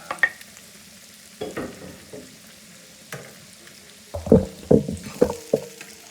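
Ingredients sautéing in a pan for spaghetti and meatballs, a soft background sizzle broken by several sharp stirring and scraping knocks, clustered toward the end, close and without speech.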